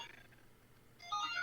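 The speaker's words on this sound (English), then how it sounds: "So sorry for the phone in the background, by the way." A phone rings faintly in the background of a room, a short electronic ringtone tone rising near the end of the brief moment.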